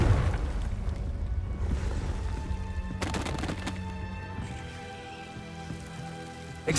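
A Confringo spell blast in Hogwarts Legacy, a sharp crackling burst around the middle against a dense wash of magical ambience and rain-like hiss, with a fresh hit at the very end.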